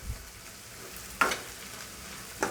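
Onion frying with ginger garlic paste in a pan gives a soft, steady sizzle, with two or three sharper scrapes of a spoon stirring against the pan.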